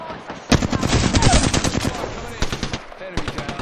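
Rapid automatic gunfire from an Apex Legends match, dense bursts of shots rattling close and loud for most of the stretch with brief gaps, over busy game sound and a faint voice.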